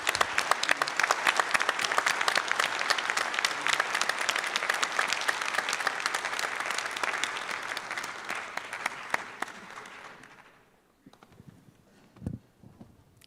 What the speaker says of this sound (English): And I would like to end with giving a hand of applause for our outgoing chair, MAG Chair, Mr. Paul Mitchell.